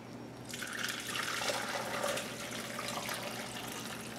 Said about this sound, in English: I'm going to strain